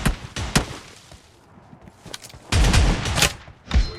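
Shotgun fire in a one-on-one mobile shooting game match, several sharp blasts in quick bursts with a pause between, loud and close with short decaying tails.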